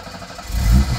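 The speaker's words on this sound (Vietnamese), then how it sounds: "sẽ nổ máy thử nè." An old 1980s-era Japanese car engine fires up close by, a short low rumble that swells quickly into a loud mechanical roar.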